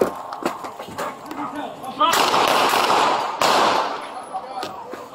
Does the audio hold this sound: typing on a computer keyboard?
no